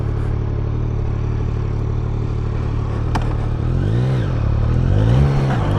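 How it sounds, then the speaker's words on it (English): A 2024 Yamaha MT-09 SP motorcycle idling loudly up close, then a sharp click before the engine revs up and down twice as it pulls away. "I'm going to get on the bike, I'm going to get the key, start the bike, and then I'm going to throw the key on the ground and ride off"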